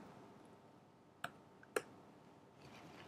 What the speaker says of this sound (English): We typed again